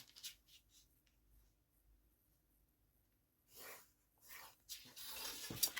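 Pen or pencil strokes draw lines on paper for a folded paper box, quiet close scratching in short passes with a brief louder rub near the end.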